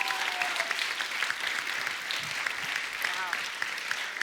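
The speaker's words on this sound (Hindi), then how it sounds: "तो इस बात के लिए तालियां बनती है।" A TV show studio audience gives a warm, continuous round of applause, dense and even, sustained for about four seconds.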